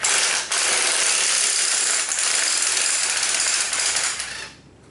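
A puller draws the pulley off a BMW X5 AC compressor with a loud, continuous metallic grinding rasp, close up and steady for several seconds before it fades out.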